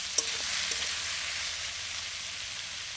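Onion, tomato, dried red chili and black cumin sizzling in hot oil for a rui fish jhal, a steady broadband fry hiss with a couple of brief clicks near the start, alone with no talk.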